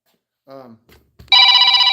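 A telephone rings loudly and steadily in a workshop during an Oldsmobile 403 engine teardown, a sustained electronic bell tone that starts after a brief stretch of a man's speech and a few small clicks.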